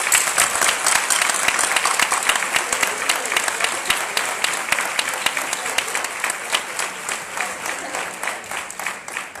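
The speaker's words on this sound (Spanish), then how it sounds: "voy a pedir primero un aplauso para Isabel" An audience at an awareness conference on ADHD applauds a speaker named Isabel, a full, continuous burst of clapping that stays strong for several seconds before thinning and becoming more scattered at the end.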